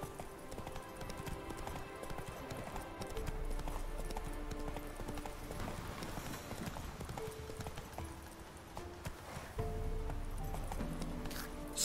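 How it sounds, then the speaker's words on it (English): Steady clip-clop of hooves at a quick, rhythmic gait in the video game The Witcher 3: Wild Hunt, fairly close and continuous, with a brief whinny; no talking. "Tell me I can ride a horse."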